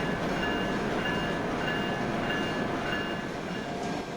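A simulated train in the Trainz game rumbles steadily along the tracks, a constant close mechanical roar with faint high whining tones, stopped at a red signal before a station.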